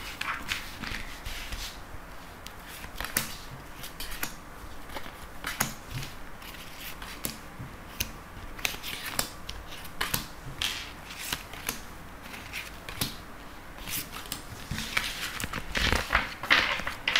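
Tarot cards are shuffled and drawn up close, giving a steady run of crisp slaps, flicks and papery rustles at an irregular rhythm over a quiet room.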